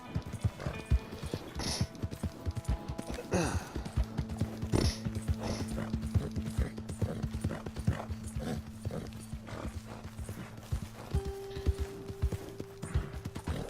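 Horse hooves clip-clop in Red Dead Redemption 2, a quick, loud rhythmic stream of close hoofbeats with a brief whinny early on and a steady tonal hum beneath.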